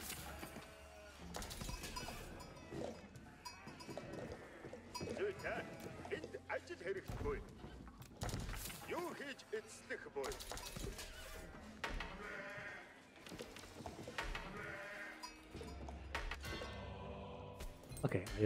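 Sheep bleat repeatedly in a busy Age of Empires IV soundscape, mixed with hoof clatter and background effects while people talk over it.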